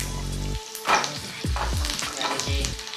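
Cumin seeds hit hot oil for Rajasthani onion kachori, setting off a loud, crackling sizzle that swells and pulses with a few stirring scrapes, close up and without talk.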